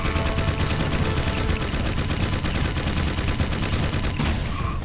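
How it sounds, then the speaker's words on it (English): Enemies firing in the game Jak 2: loud, sustained rapid gunfire from many weapons at once, a continuous barrage with no pauses and no speech. "50 guys shooting you all at once."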